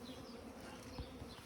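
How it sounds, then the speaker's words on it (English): Honeybees from a package buzzing as they are shaken into a hive, a faint steady insect hum with a soft thump partway through. "Give enough space to shake the bees in."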